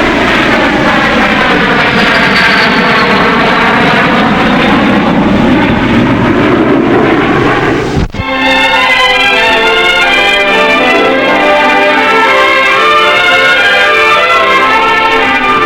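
Loud roaring North American Aviation military aircraft engines with a droning, shifting pitch, a brief break, then another steady high-pitched propeller drone.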